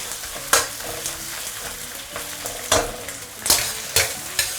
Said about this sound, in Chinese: 小火别急，慢慢把这个豆瓣酱给它炒香